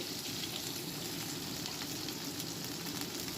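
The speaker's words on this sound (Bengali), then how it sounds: "কড়াতে আবার একটু তেল দিলাম দিয়ে পেঁয়াজ আর রসুন কুচি করে রেখেছিলাম তো সেইগুলো দিয়ে একটু ভেজে নিচ্ছি" Chopped onion and garlic fry in hot oil in a wok, giving a steady, dense sizzle that holds evenly throughout with no pauses, close and fairly loud, and no voices over it.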